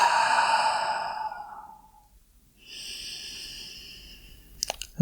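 A long, breathy exhale out through the mouth, loud and close, that fades away, then a second softer breath begins and brief sharp rustles follow near the end, with no speech.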